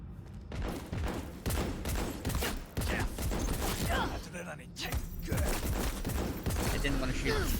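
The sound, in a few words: gunfire in video game Cyberpunk 2077 Phantom Liberty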